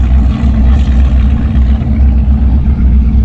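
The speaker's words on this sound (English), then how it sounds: "That sounds like a huge" The engine of a sailboat runs loudly and continuously, a deep steady throbbing drone close by with no talk over it.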